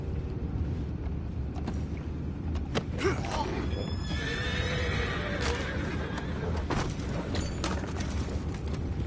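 Horses in Red Dead Redemption 2 whinny and shift about amid a low rumbling ambient bed, with a few sharp clip-clop hoof knocks and neighs scattered across the stretch, no talk.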